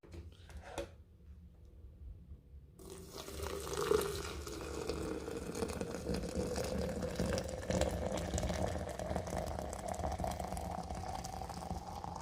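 Hot water is poured over a loose herbal tea blend to brew it. After a brief pause a steady close gurgling pour begins and slowly rises in pitch as the vessel fills.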